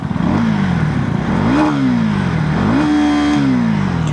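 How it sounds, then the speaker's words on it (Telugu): A KTM Duke 250 motorcycle with an underbelly exhaust revs up and back down in repeated surges, its engine note rising and falling loudly and steadily throughout, with no talking. "ఫ్రెండ్స్, ఒకసారి ఎగ్జాస్ట్ సౌండ్ వినండి."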